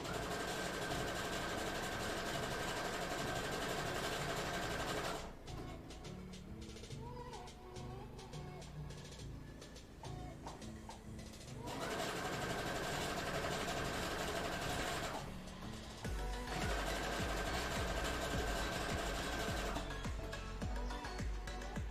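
A sewing machine stitches the bottom hem of a cosplay skirt in long, steady runs that stop and restart, with a quieter stretch between the bursts of stitching.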